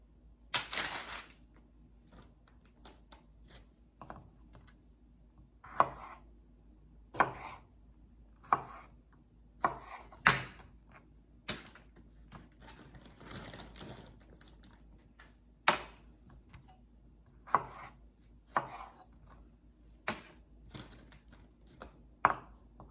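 Tomatillos, some still partly frozen, are sliced in half with a knife: a couple dozen sharp, irregular chops land alone against a quiet background, with no talking.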